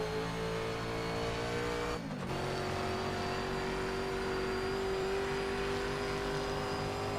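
Historic sportscar in an online sim race at Riverside, engine droning at a steady high pitch with a brief tyre scrub and dip around a corner, then climbing again as throttle builds.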